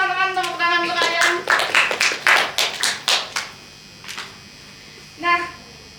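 A class applauds together in a burst of clapping lasting several seconds that fades out, followed by a brief voice.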